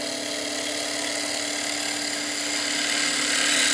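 A skew chisel slices into spinning wood on a lathe, its long point cutting in with the bevel rubbing, making a steady high whine over a constant motor hum that grows slightly louder toward the end.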